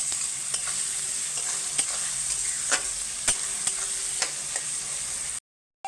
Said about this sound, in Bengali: আর সামান্য একটু লবণ দিয়ে আমি পেঁয়াজটাকে ভেজে নেবো লাল করে একদম।